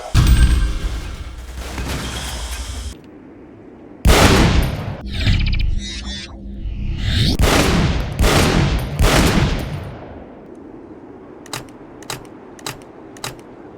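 A first-person shooter game shotgun fires several loud heavy blasts with reload clicks between, followed by a rapid string of short sharp pops, all close and alone without talk.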